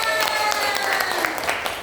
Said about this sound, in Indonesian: Oke, betul, tepuk tangan dulu buat Dosma.